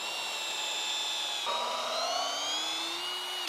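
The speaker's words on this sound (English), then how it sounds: "Let's do some drilling" A power drill whines steadily while working into wooden planks during a backyard build, its pitch rising and shifting partway through, loud and alone.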